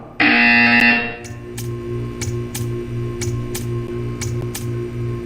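A loud electronic buzzer from the Portal 2 video game blares for about a second, then a steady low hum continues with a string of regular faint clicks or ticks.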